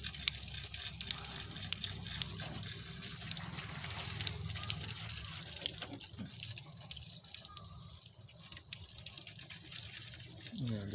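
A steady hiss of water spraying and splashing against a car AC condenser, continuous and close, with faint talk in the background.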